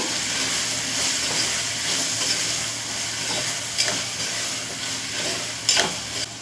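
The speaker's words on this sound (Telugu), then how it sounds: "కొంచెంగా పసుపు వేసానండి వేసి బాగా మిక్స్ చేశాను" Chili powder and turmeric frying in a pan for egg tomato pulao make a steady sizzling hiss, with a couple of brief scrapes of stirring near the end.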